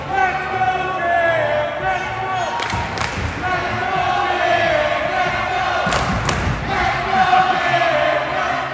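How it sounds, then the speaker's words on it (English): A crowd of parents cheers and shouts in a gym at a youth basketball game, with two sharp thuds of a bouncing ball cutting through the steady roar. "Our parents were so happy, they kept cheering for us."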